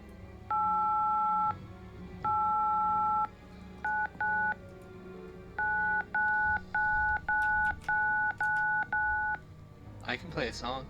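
A phone keypad beeps out a song in DTMF tones: a few long held tones, then a quick run of short beeps with brief gaps between them, with faint noise after.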